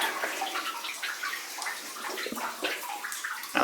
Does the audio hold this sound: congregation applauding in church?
no